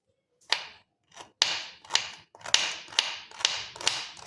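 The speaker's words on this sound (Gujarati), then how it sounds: "સૌથી પહેલાં આપણે અહીંયા ગાજરને કટ કરી લઈશું" Knife chopping carrots on a cutting board: a steady series of sharp, close chops about twice a second with brief gaps, alone without talk.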